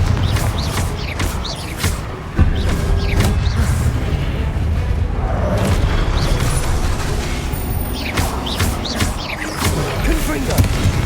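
Confringo explosion spell in a Harry Potter video game, heard as dense, loud blasts and rumbling booms with crackling bursts throughout, close and continuous, mixed with game sound effects and a voice talking.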